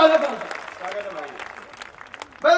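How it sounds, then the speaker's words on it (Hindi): At a Hindi hasya kavi comedy poetry show, an audience claps in brief bursts, mixed in with someone speaking into a microphone. "आपको ताली तो बजानी ही पड़ेगी। एक बार बजा दो।"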